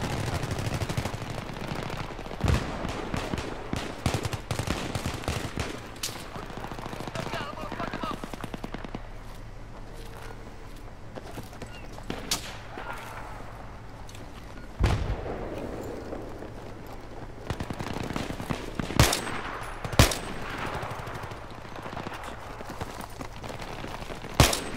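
Gunfire in the video game Battlefield 3, including shotgun blasts: sharp, loud shots scattered irregularly amid rapid bursts and a busy combat din, with voices heard at points.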